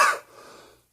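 A single close cough bursts out at the start, followed by a softer breathy exhale that fades out, with no talking.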